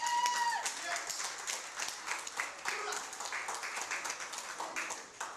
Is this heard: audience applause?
yes